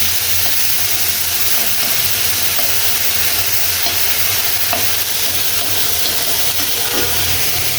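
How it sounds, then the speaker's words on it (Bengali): Shrimp frying in hot oil in a kadhai wok, a loud constant sizzle with faint stirring clicks, close up and uninterrupted by speech. "চিংড়ি মাছগুলো আমি তেলে নিব।"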